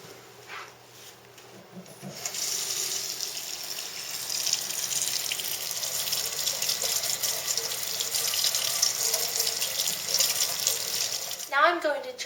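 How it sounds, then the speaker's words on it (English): Warm water runs from a tap, streaming steadily into a sink while soap is rinsed from a Vespa scooter's foam air filter, a continuous close splashing rush after a quiet start. "I'm going to use some warm water to thoroughly rinse the soap out."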